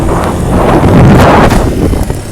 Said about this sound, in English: There was a gust of wind and a bit of rain.